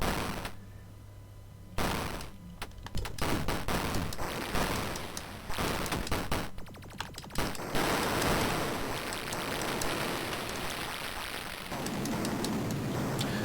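Tank cannon fire from the Rampage arcade game, bursts of loud blasts and crashes that come and go amid noisy game clatter, no one talking over it.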